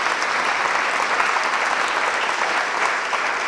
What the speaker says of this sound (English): Let's give a warm hand of applause to all 4 of our colleagues here